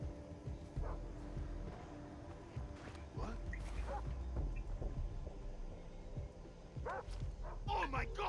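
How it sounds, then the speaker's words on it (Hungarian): Dogs barking and yipping in the first-person shooter Far Cry 3, short barks scattered amid game sound effects and other noise. "Kutyák."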